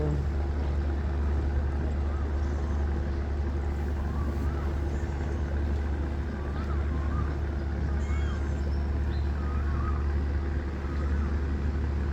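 Small tugboat engine towing a large pontoon barge on a Thai river toward Pa Mok, Ang Thong, a continuous heavy low rumble that holds steady and close throughout.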